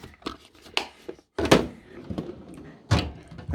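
Drawers of a Clarke heavy-duty tool box slide open and shut, giving a few sharp thunks and metallic rattles spread over a few seconds, close and fairly loud.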